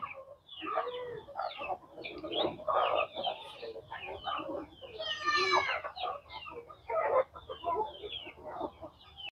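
Farm chickens clucking steadily, a close, busy flock with overlapping calls and one louder squawking burst partway through.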